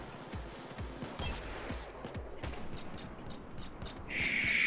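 Rapid bursts of gunfire while shooting a sniper in the video game Payday 2, a string of sharp repeated shots spaced through the clip, fairly loud and close, ending in a brighter electronic tone.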